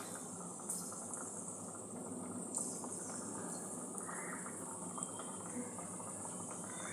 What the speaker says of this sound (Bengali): বিস্কুটগুলো এক এক করে ভেজে নেব।